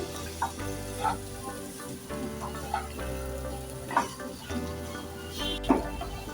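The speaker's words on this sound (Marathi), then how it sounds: "आता आपण त्यात काय करणार आहोत ओलं खोबरं घालणार आहोत छान परतवूया" Grated fresh coconut sautéed with okra masala in a pan gives a steady sizzle and frying hiss, with a few louder stirring scrapes rising over it.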